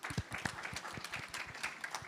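Audience applause at the Ghana-Canada Investment Summit, a brief burst of scattered, moderately loud clapping from a conference crowd.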